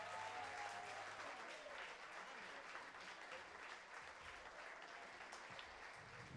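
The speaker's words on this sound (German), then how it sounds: "können wir nochmal einen riesen Applaus für Timothy und Michael" Sustained applause from a concert crowd, dense and steady throughout, with faint voices mixed in.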